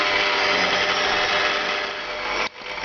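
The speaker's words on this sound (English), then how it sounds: "The stand mixer will begin to feel the amount of force that it takes in order to stir this around." A stand mixer kneading thick khachapuri cheese bread dough, its motor whirring loud and steady close by, straining and dipping briefly near the end before picking back up.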